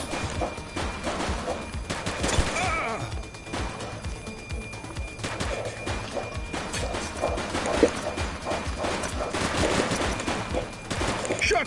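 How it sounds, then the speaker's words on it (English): Sustained gunfire from a shootout in the police video game The Precinct, dense overlapping bursts and crashes rattling loudly and continuously throughout. "Shots fired!"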